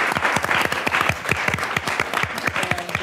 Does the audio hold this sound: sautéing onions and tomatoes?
no